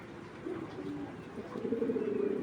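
A Bangladeshi Giribaz chuina pigeon coos in low, soft, repeated throaty calls that grow a little louder toward the end, over a faint background hum.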